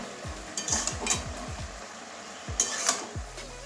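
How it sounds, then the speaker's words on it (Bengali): A spoon stirs a fish head and bottle gourd curry with turmeric in a pan, scraping in a series of quick strokes with a short pause, close and alone over a faint sizzle. "আবারও হলুদের সঙ্গে ভালো করে মিশিয়ে নেবো"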